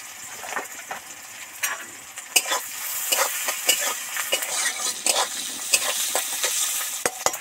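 Sliced onions and halved chillies fry in oil, giving a continuous close sizzle broken by frequent ladle scrapes and a few sharp clacks against the pan.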